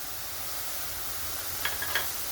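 Masala bhindi base of onion, tomato, red chilli powder, turmeric and spices sautéing in a pan gives a steady hiss and sizzle, with a few brief stirring scrapes near the end.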